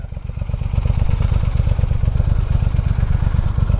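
A Triumph demo motorcycle engine runs close by with a loud, rapid pulsing thump, its firing beats steady and even throughout the short stretch.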